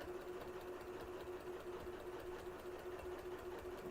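Sewing machine quilting at a fast pace, an even mechanical hum with a constant pitch running throughout, faint and close, with no talk.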